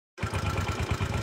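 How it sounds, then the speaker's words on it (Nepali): After a moment of silence, a motorcycle engine catches and settles into a steady, rapidly pulsing idle close by, heard on a hiking trip in Nepal. "ल म स्टार्ट गर्छु ल बाइक"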